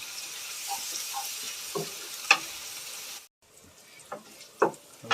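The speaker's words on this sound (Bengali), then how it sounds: "রসুনটা ভাজা হয়ে গেছে" Garlic paste fries in a pan with soft, quiet sizzling and a few sharp stirring clicks and scrapes, then a brief pause before faint sizzling resumes with more scraping.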